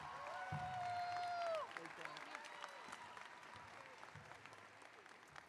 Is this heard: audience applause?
yes